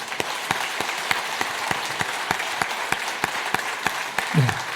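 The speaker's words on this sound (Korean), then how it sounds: "인사할 때 여러분들도 같은 마음으로 박수로 축복하시겠습니다." A church congregation at a New Year's Eve service applauds as elders are greeted, with a soft continuous wash of clapping and a regular, evenly spaced beat of sharper claps, and a brief voice near the end.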